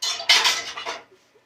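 A plate grabbed from a stack in a home kitchen, a short burst of ceramic and cutlery clattering close by that fades out within a second.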